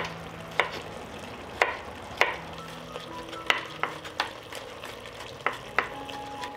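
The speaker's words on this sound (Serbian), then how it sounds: "Dok se šnicle prže sa druge strane" Schnitzels fry in a pan as they cook on their second side, a steady sizzle broken by sharp crackles and pops every second or so. The sound is close and moderately loud, with no talking.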